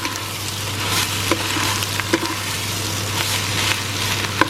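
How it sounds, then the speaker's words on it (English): Curry paste being stirred into Quorn pieces and onions in a hot pan, with continuous close sizzling, occasional sharp scrapes and knocks of a utensil, and a low steady hum underneath, no talking. "Stir that in, coat all your Quorn and your onions in your paste."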